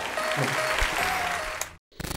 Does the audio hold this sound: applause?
yes